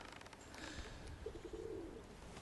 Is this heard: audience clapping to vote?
no